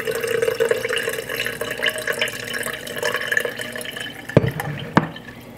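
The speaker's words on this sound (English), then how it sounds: "I'll use my strainer and I'm just going to go ahead strain some that I need for today" Homemade ginger water is poured through a kitchen strainer, a steady close trickle of liquid that ends in a couple of sharp drips and clinks.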